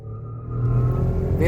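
A Skoda Kushaq SUV launching off the line in a 400-metre drag race, its engine rising steadily in a loud, close revving drone that builds over a second and a half, with no one speaking.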